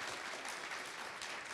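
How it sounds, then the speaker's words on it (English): Audience applause at a CreatorIQ Connect creator event, a dense continuous wash of clapping heard alone through the whole brief stretch. "So what about another round of applause for these awesome people?"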